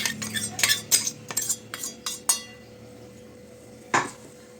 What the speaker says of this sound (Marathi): उकळलेल्या पाण्यामध्ये हा मसाला कालवून घ्यायचा व्यवस्थित